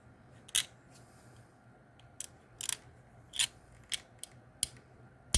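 Hard plastic inside a camping lantern crunching and cracking as a metal hook chips it away: about eight sharp, separate snaps spaced irregularly over a quiet background, close up and fairly loud.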